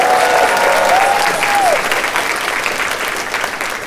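A crowd at an arcade tournament closing ceremony claps steadily for a runner-up, dense and sustained applause with a voice briefly heard over it at the start.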